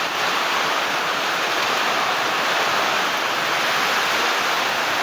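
Typhoon Opong in Blayan, Occidental Mindoro, a constant heavy roar of wind and rain, a dense, loud wash of noise that holds steady throughout without a break.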